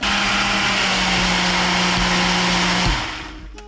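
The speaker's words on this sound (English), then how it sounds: "You grab your little Ninja blender." A Ninja blender purees homemade pizza sauce, running as a loud, steady, high whine for about three seconds before spinning down and stopping.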